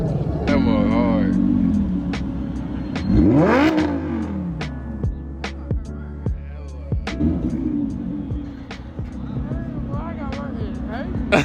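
Bugatti at an exotic car show, engine revving and roaring as it pulls away, with other engine whines sweeping up and down amid loud crowd chatter and voices throughout.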